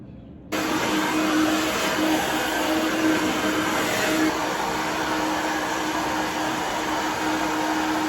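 A blow dryer switches on abruptly and runs with a loud, constant whooshing hum for several seconds, nearby and uninterrupted.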